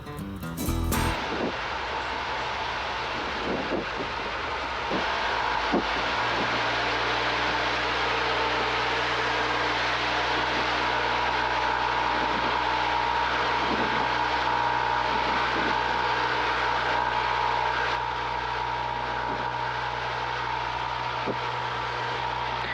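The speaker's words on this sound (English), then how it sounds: "Watch as I muscle the airplane down to the runway." Cessna Skyhawk light airplane landing on a runway in a gusty crosswind, with a steady close engine drone and loud wind rush inside the cockpit and a few faint clunks, without talking.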